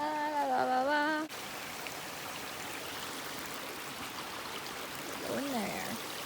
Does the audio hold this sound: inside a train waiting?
no